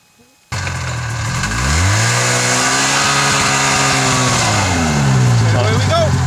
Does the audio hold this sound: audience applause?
no